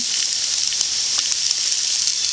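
Onions sizzle steadily in a big pan while being caramelized for canning onion soup, a continuous bright frying hiss with faint crackles, fairly close and with no talk.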